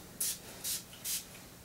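Diamond gemstone spray misted overhead in three quick, soft hissing bursts, each about a quarter second long and evenly spaced, with quiet room between them.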